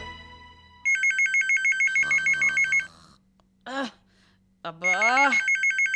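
An electronic telephone ringtone trills loudly and close in repeating pulses, broken by short gaps, while a voice briefly exclaims in between.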